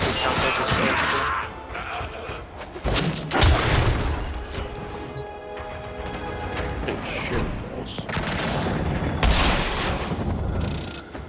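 A cannon firing in the Warframe video game, with booming blasts and crashing impacts mixed with mechanical game effects in loud bursts.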